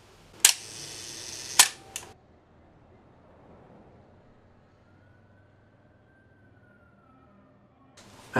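An analog film camera clicks close by: two sharp shutter clicks a second apart with a smaller click just after, then a faint quiet stretch before another click at the end.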